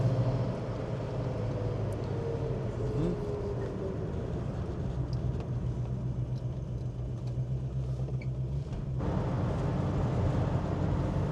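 A 1965 Ford Mustang GT V8 engine with a blown exhaust gasket runs at a steady idle, a loud, constant low rumble that holds the whole time with no talk over it.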